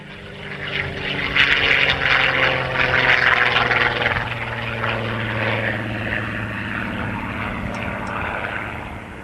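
Propeller aircraft engines drone loudly at an airfield during a parachuting competition, a sustained close roar that swells early then holds steady with a slowly shifting pitch, no voices.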